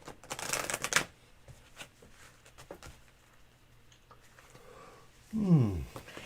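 Lenormand cards shuffled by hand: a quick papery riffle at the start, faint soft card handling after it, then a short voice-like sweep near the end.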